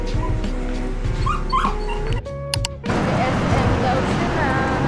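Dogs give excited yips, whimpers and short barks amid people talking and exclaiming, close and busy, with a brief lull before the noisy chatter returns.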